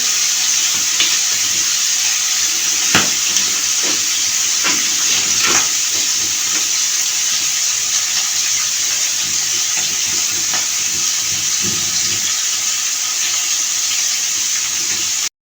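Fish fry in a pan with a steady, loud, hissing sizzle that runs the whole time, with a few faint clicks and taps of utensils and no talking.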